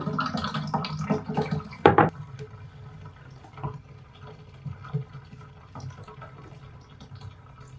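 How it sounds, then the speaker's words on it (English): Water used to soak freshly knitted socks is tipped out of a basin, opening with a short gush and splash, then settling into scattered faint drips and trickles in a quiet room. "Okay, let's dump this water."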